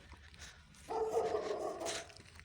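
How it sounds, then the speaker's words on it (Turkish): A dog barks from inside a building nearby, muffled, a burst of several rough barks that carries on for over a second, with no talking. "Köpek şu anda içeriden havlıyor."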